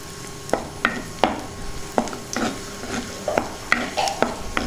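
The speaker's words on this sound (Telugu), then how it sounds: "ఇప్పుడు కిస్మిస్ వేసుకుందాం, దీన్ని కూడా బాగా వేయించుకుందాం" Raisins frying in hot ghee for bottle gourd halwa, with a spoon stirring and scraping the pan in repeated strokes over a steady close sizzle.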